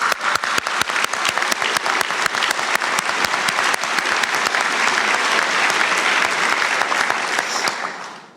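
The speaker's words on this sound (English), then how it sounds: "I think we all owe ourselves a round of applause" Graduates at a University of Galway conferring ceremony break into loud, sustained applause, dense clapping from a large seated crowd that holds steady for several seconds before tapering off at the close.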